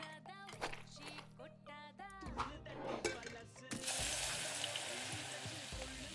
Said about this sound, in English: Gonna fry the fish. that sound is beautiful.